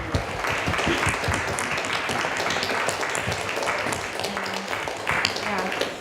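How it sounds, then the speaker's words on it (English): Applause for panelists after a student discussion of the 2016 elections, steady clapping from a modest crowd lasting several seconds, with scattered voices underneath. "let's give our panelists a round of applause."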